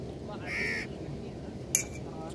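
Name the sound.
crows cawing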